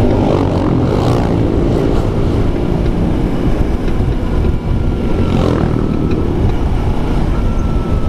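A 2009 Kawasaki Ninja 250R Limited Edition motorcycle engine drones steadily and loudly while it is ridden on a test ride, a continuous broadband roar with wind rush and no talk.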